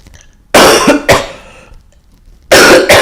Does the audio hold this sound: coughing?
yes